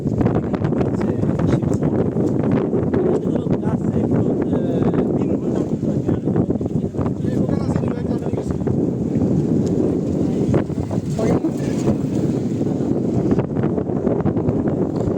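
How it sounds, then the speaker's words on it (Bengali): Strong wind roars and buffets the microphone continuously, a dense low rumble with faint talk mixed underneath. "প্রচুর বাতাস।"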